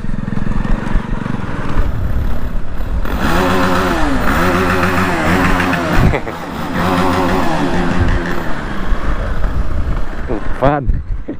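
A TVS Apache RR310 motorcycle engine runs loud and close on a rough off-road track, its pitch rising and falling in several revving surges, with a sharp rev near the end and talk mixed in.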